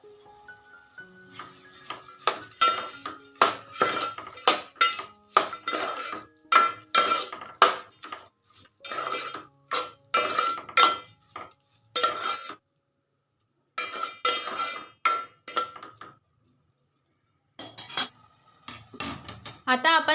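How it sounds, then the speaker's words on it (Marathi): Carrot halwa with cardamom powder and sugar being stirred in a pan, a long run of sharp spoon-on-metal clinks and scrapes in quick irregular bursts with short pauses, close and fairly loud. "आता हे मिक्स करून घेऊया आपण"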